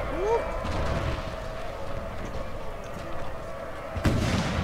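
A single gunshot rings out near the end of a steady rumbling battle ambience in the game Napoleon Total War, set in the American Civil War.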